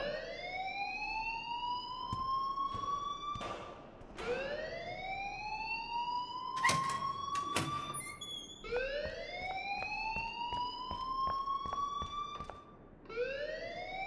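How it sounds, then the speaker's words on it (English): A school alarm in the video game Life Is Strange rings out in long rising, sweeping electronic tones, repeating steadily and loudly throughout with sharp clicks between sweeps. "please turn off that alarm since that's your job"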